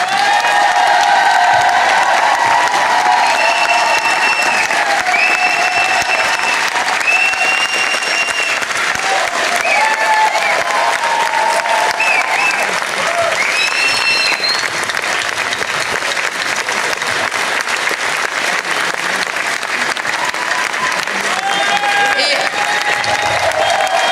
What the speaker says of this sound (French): Il faut surtout applaudir Victor Fleury et Alexandre Darcas